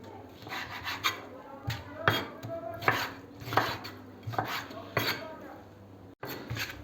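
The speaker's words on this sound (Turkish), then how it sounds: "Evet arkadaşlar bütün tavuk taşları neredeyse doğradık" A knife chops chicken gizzards repeatedly on a cutting board, a series of sharp thuds in an uneven rhythm, close up, with faint rubbing sounds between strokes.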